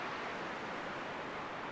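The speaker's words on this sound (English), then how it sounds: "So I'm at a little creekside campground in Virginia." A creek flows beside a small campground in Virginia, making a soft, continuous watery hiss that holds steady and faint throughout with no voices.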